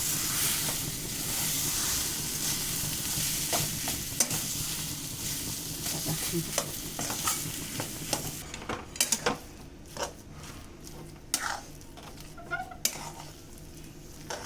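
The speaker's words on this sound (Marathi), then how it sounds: "आता हे छान आपण असं परतून घेऊया. आणि परतत असतानाच त्याच्यामध्ये कोथिंबीर घालायची." Chili stuffing with coriander being sautéed in a pan, a steady broad sizzle with scattered stirring scrapes and taps, louder in the first half and then quieter with intermittent spatula clicks.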